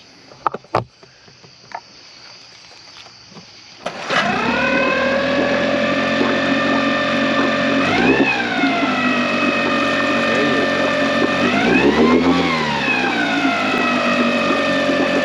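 A Tohatsu 8 horsepower outboard motor catches after a few quiet seconds and runs steadily and loudly, with the engine pitch rising and falling twice as the throttle is blipped.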